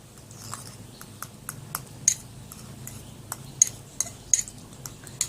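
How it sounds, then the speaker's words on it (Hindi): A spoon taps and clicks in a small bowl, mixing honey into a grated potato face pack: a steady run of light, irregular clinks over a soft background hiss, close by. "फिर इसको अच्छे से मैंने मिक्स करना है।"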